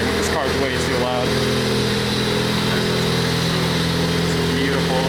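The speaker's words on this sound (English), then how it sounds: "This car's way too loud." A Ford Focus ST fitted with a Duraflex wing and Recaro seats runs at the Pittsburgh International Auto Show, giving a loud, steady, close engine drone throughout with voices talking over it.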